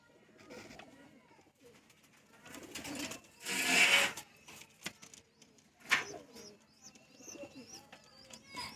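Pigeons coo softly nearby, mixed with scraping, rustling bursts and a brief flutter; a voice is faintly present.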